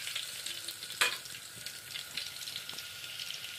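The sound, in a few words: crushed garlic frying in oil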